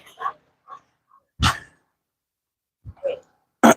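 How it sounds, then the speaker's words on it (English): A dog barks in sharp, separate bursts, a couple of loud close barks with quieter yelps and whimper-like sounds between them, heard during a walk home outdoors. "That would be a dog."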